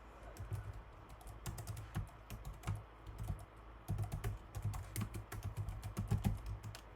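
A password is typed on a computer keyboard, a quiet run of close, quick key clicks in irregular bursts with short pauses between them.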